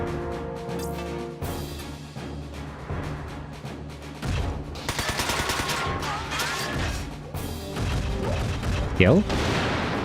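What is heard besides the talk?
shotgun fire against Wanzers in video game Front Mission 4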